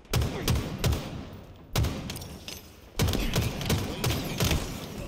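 Gunfire in a first-person shooter game, with several quick volleys of loud close shots and thumping impacts in short clustered bursts over a continuous noisy backdrop.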